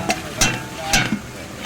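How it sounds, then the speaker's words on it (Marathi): Cauliflower and potato cooking in a spice tempering (phodni), with a steady close sizzle broken by three or four sharp bursts of stirring scrapes. "फोडणी चालू आहे त्याची।"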